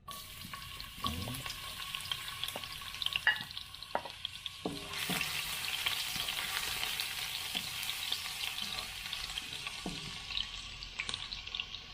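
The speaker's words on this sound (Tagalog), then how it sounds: "Gisahin natin yung bawang." Garlic sizzles steadily in hot oil in a wok, with occasional spatula scrapes and stirring clatter, close and continuous throughout.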